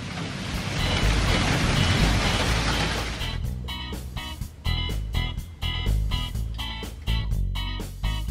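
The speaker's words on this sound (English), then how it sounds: "And it continues to downpour." Dense, loud rushing noise like a heavy downpour fills the first few seconds, then gives way to rhythmic music-like tones.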